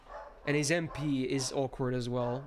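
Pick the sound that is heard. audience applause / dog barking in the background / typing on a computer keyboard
dog barking in the background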